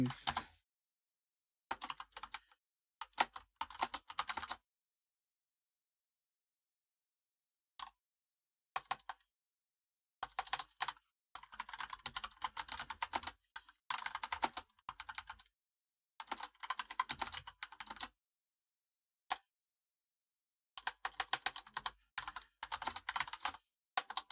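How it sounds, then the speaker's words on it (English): Someone types on a computer keyboard in short, irregular bursts of rapid clicking separated by pauses, close and clear in an otherwise quiet room with no talking. "We're just typing in a little bit."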